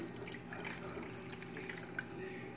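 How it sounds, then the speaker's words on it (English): Steady hot tap water pours into a container, splashing and trickling at low volume, a continuous liquid stream with small drips. "all I did was take hot water from the sink. Just gonna pour it in."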